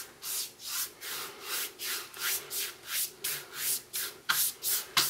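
A brush is lightly dragged back and forth over wood, spreading a cream glaze for a faux gray weathered wood grain, giving about a dozen soft, rhythmic scraping strokes, close and steady.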